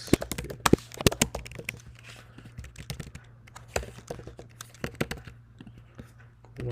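Card details being typed on a computer keyboard: a quick run of crisp, close key clicks in irregular bursts over a low steady hum, with no voices.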